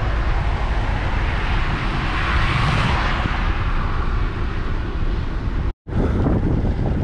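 Strong wind buffets the microphone on a dark night in the Italian countryside during a bike tour, a loud continuous roaring rush that swells around the middle, cuts out briefly near the end, then resumes.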